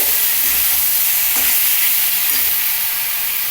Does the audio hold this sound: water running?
no